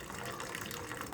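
Cooking water being poured off boiled amaranth-leaf dal into a bowl, a short, steady gushing pour of liquid heard up close.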